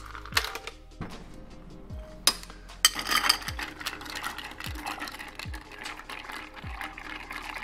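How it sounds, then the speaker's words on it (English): Ice cubes clink inside a mixing glass as a coffee-based cocktail is given a short stir, a series of light, evenly spaced knocks and rattles close by, with no talking. "I'm only giving this a short stir."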